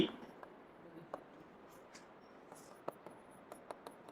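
A marker or chalk scratches across a board while a sentence is written, giving faint, scattered taps and short strokes close by under a quiet background.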